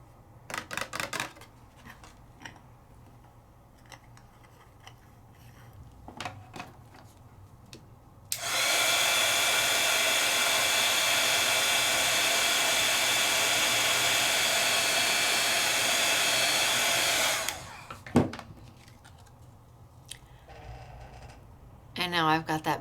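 An embossing heat tool switches on for about nine seconds of loud, steady blowing whir, with light handling clicks and rustles before and after.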